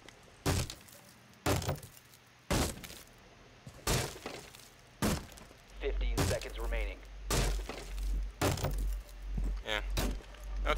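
Sharp repeated gunshots and crashing, splintering impacts as furniture is shot apart and destroyed in Rainbow Six Siege, spaced bangs followed by denser breaking debris, with a voice talking between them.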